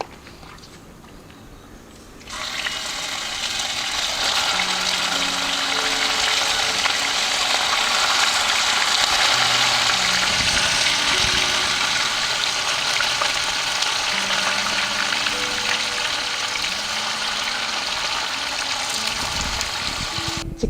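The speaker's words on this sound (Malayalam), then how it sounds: "നമുക്കതുപോലെ തന്നെ ബാക്കിയുള്ളത് കൂടെ ഫ്രൈ ആക്കി എടുക്കാം അല്ലേ?" Chicken pieces frying in oil to a light brown; after a quieter start, a loud dense sizzle bursts in and holds steady nearby, with faint low knocks underneath.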